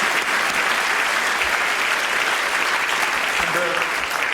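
Sustained applause from an audience at a charity awards ceremony honouring Ebola aid workers, a steady dense clatter of clapping that holds at full strength with no break.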